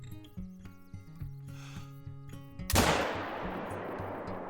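A single sharp rifle shot at a moose cracks loudly in the hunting game Call of the Wild, after quieter footsteps and ambience, and its echo rolls on and fades over the next two seconds.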